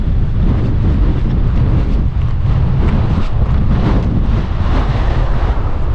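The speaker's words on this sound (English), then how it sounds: "It's really windy here." Strong, steady wind roars and buffets across the microphone without pause beside a parked motorcycle, a dense low rumble with gusty surges throughout.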